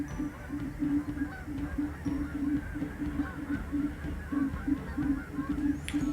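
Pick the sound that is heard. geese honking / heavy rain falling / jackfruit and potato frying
geese honking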